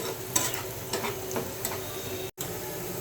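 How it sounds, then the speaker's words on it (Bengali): Onion and dried chili frying in hot oil while being stirred with a spatula, a steady soft sizzle broken by several scraping stir strokes. "পেঁয়াজ মরিচটা আমি ভালো করে ভেজে নিব।"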